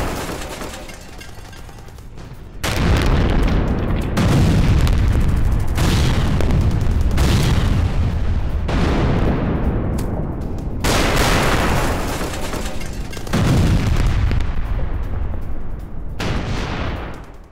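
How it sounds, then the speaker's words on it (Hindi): Russian artillery shells a war zone near Lyman in Ukraine with a series of heavy, loud booms at irregular intervals, each blast leaving a long rumbling decay. "रूसी फौज से आर्टिलरी से हमला किया है"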